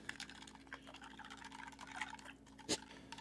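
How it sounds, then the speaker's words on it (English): A US MRE drink mix is stirred in its pouch or cup, giving faint, close clicking and scraping taps over a low steady hum, with one sharper knock near the end. "Let's give it a little stir."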